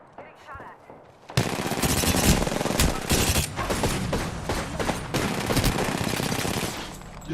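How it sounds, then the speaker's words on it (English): Gunfire in the Apex Legends video game: after a quiet start, dense rapid shots and bursts start suddenly and continue steadily, loud and close, with player talk mixed in. "Getting shot at."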